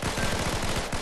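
NPC gunfire in a shooter video game, a rapid burst of automatic fire with evenly spaced loud cracks, close and continuous, no voices over it.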